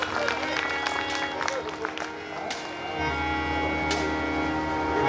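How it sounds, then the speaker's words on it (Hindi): An indoor audience at a devotional gathering claps steadily, a dense patter of hands carrying through with a voice speaking over it. "एक बार जोरदार तालियों से इनके लिए स्वागत कीजिए"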